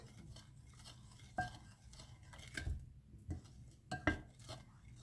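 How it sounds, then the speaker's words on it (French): Homemade lemonade syrup stirred in a pot: quiet scraping and clinking of a utensil against the pot in irregular strokes, with a few sharper knocks, close and soft. "On va bien remuer"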